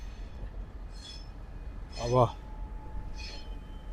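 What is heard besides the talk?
freight train engine running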